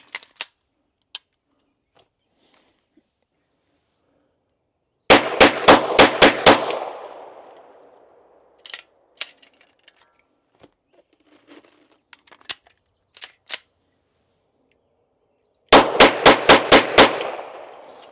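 Bul Armory 2011 pistol fired in two fast strings of about six sharp, loud shots each, with scattered single clicks and handling noises between the bursts.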